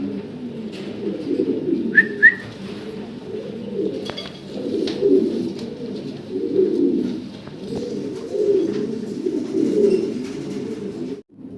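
Fancy pigeons coo steadily in repeated soft, low bursts, close by, with a brief whistle-like chirp early on and no talk.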